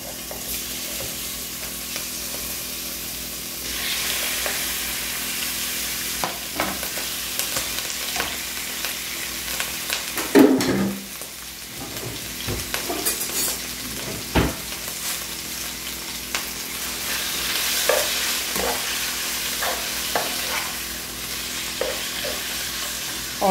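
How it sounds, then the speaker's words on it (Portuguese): Bacon and beef sizzle steadily as they fry in a pan, with stirring scrapes and occasional clanks of the utensil against the metal throughout. "Aí eu já vou adicionar as carnes, tá? De porquê de boi, porque elas demoram mais tempo pra fritar."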